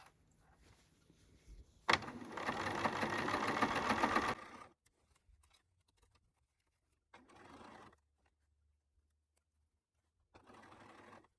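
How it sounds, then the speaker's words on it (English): A sewing machine runs one short, loud burst stitching a J-stitch joining a pants front to its facing, followed by quieter intermittent handling sounds and a faint later whir. "I am sewing the J-stitch, so the front and the facing together to form a J"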